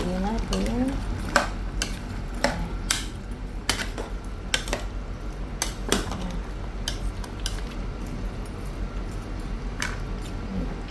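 A utensil stirring chicken afritada with potatoes in a pot, making repeated metallic clinks and scrapes at an uneven rhythm, close and fairly loud, with a voice briefly audible.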